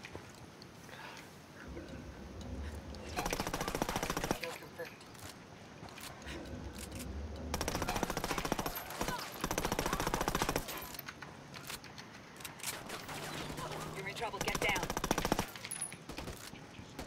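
Sustained automatic gunfire in Ghost Recon Wildlands as enemies shoot at the players' vehicle, several long rattling bursts across the stretch, fairly loud over game ambience with voices in between.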